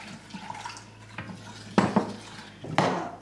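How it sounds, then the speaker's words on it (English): A spoon mixes milk into a trifle mixture in a bowl, soft sloshing and stirring that builds to a few loud clinks and knocks against the bowl near the end. "I'll mix in the rest of the milk"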